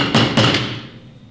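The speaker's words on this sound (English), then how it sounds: "put your nail where you want your first hole and just lightly tap it in" A hammer lightly taps a nail into a tin can while punching holes for a pioneer-style tin can lantern, with two close, crisp metallic knocks that ring briefly and then fade.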